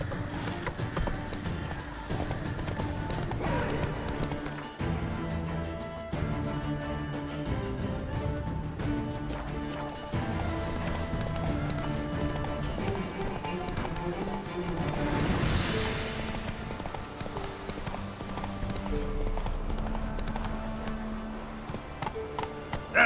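Geralt's horse Roach gallops in The Witcher 3, a steady rhythmic clip-clop of hooves running on through a continuous musical score and ambient game sound, close and mid-level.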